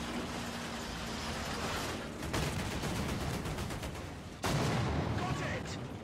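Tank cannon fire in War Thunder, with two heavy booming shots several seconds apart, each followed by a long rumbling tail over steady engine noise.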